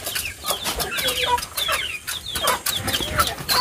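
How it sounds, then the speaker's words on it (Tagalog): Newly hatched chicks or ducklings peep over and over in a constant high chorus of short chirps, close and lively with no pauses, amid other farmyard fowl. "Ayan, yung mga bagong sisiwa."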